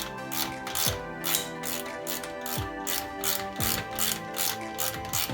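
A hand ratchet working loose fuel pump bolts, steady rapid clicking in repeated strokes, close and clear with no talk.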